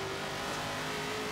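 A 1969 Ford Mustang Boss engine in the racing game Forza Horizon 3, a steady, loud, sustained engine roar held for a brief moment without talk.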